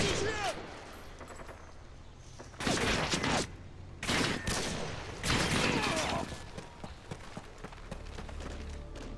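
Sniper rifle shots and bursts of gunfire in Call of Duty: Modern Warfare 2 crack out in several loud, separated volleys over a busy background of battle noise.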